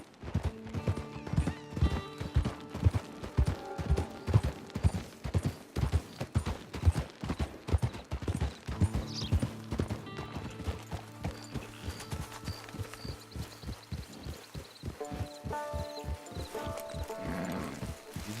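Horse hooves clip-clop steadily in Red Dead Redemption 2, a rhythmic run of close, even strikes that holds for most of the stretch, later easing into sparser steps with a brief whinny-like cry near the end.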